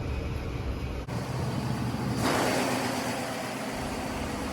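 Generator engines in a ship's engine room give a loud, continuous mechanical roar and hum, with the tone shifting and brightening partway through as the setting changes.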